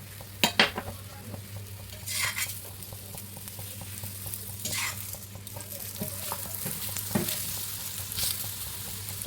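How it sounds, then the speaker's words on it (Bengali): A sattu-stuffed paratha frying with a little oil on a hot iron griddle: a few sharp metal clinks at the start, then a steady low sizzle with occasional spatula scrapes and a soft background hum. "অল্প অল্প তেল দিয়ে ভেজে নেব পরোটা।"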